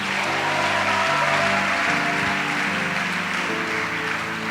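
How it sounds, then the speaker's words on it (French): A church congregation applauding after a Bible reading: steady, sustained clapping from a crowd, blended with sustained musical chords underneath. "Acclamons la parole."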